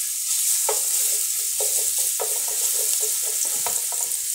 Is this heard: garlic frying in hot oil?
yes